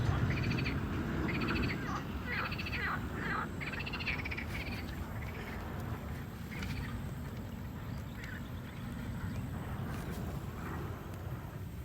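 Frogs croaking near a village pond, a series of repeated calls in short bursts over a steady wash of outdoor background noise, fading to sparser calls later.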